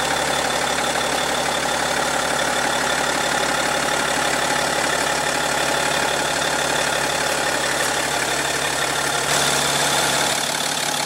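A 2015 BMW X5's 3.0-litre inline six-cylinder turbo diesel idling, a steady, loud, even drone that stays unchanged nearly throughout with no talk.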